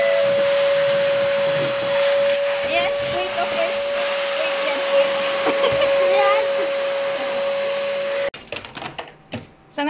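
A vacuum cleaner runs loud and steady while cleaning a visitors' room, a constant whine with a strong tone, then cuts off abruptly near the end, leaving scattered handling noises.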